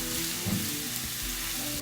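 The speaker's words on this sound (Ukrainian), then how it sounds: "Додаю моркву і смажу так, щоб морква не була м'якою, щоб залишалася трішки хрумка." Steady, close sizzling of carrots frying in a hot pan, continuous and hissing with no talking.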